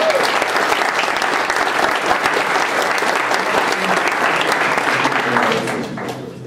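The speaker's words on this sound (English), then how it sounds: "So if you wouldn't mind giving Tim a round of applause" An audience gives a round of applause for a five-time race champion at an ultrarunning event, dense, steady clapping that holds strong before tapering off at the end.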